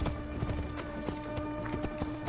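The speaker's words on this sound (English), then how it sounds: "You gotta love video game horses who just go the opposite direction." A horse's hooves clip-clop in the video game Assassin's Creed Origins, a steady close trot of rhythmic thuds laid over a continuous game soundtrack and ambience.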